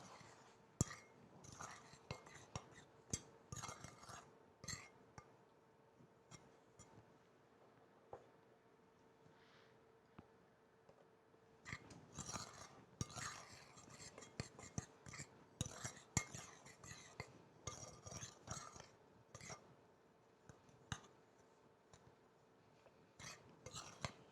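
Quiet kitchen mixing: utensils clink and scrape against a bowl in irregular bursts, with a pause in the middle before the stirring picks up again, close and soft.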